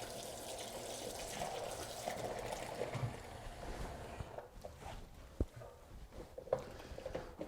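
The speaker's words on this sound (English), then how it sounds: "We're going to start to kind of agitate this around into the water, start to remove any grease or fat and clean up the skin of the bird." Pheasant skin being agitated and rubbed in a basin of water during taxidermy cleaning, a soft continuous swishing and sloshing up close, with a few small splashes and drips toward the end.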